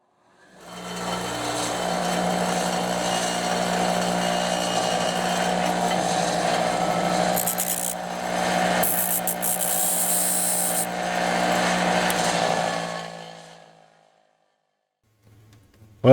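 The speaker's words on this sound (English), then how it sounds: "we're now going to go to my grinder" A bench grinder running and grinding a thin sliver of nickel strip, giving a steady loud whirring hum with harsher bursts of contact partway through, then winding down and stopping near the end.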